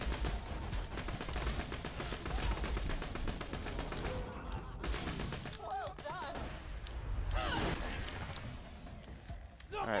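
Gunfire in the video game Borderlands 2, with fast bursts of shots and thuds through the first half, then game voices and effects over fading, intermittent fire.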